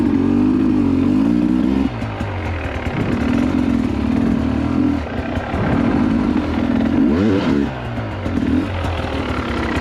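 A dirt bike engine on a forest trail revs up and down, its buzzy motor rising and falling in pitch with a few throttle blips and clattering, loud and close throughout.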